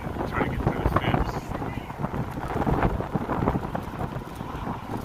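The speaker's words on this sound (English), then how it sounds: "Windy, you guys can hear the wind." Wind buffets an outdoor microphone in gusty bursts of low rumble, and faint voices come through underneath it.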